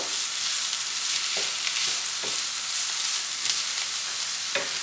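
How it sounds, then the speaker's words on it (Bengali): Onion, garlic and shrimp heads fry together in a pan, giving a steady close sizzle with occasional stirring clinks and scrapes, no talk. "এই সব কিছুকে একসাথে ভেজে নেব"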